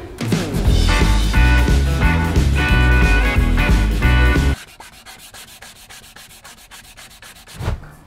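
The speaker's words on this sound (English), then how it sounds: "Back to sanding." Hand sanding of a midcentury wooden credenza: close, rhythmic rubbing strokes that are loud and dense for several seconds, then lighter, quieter passes with one brief heavier stroke near the end.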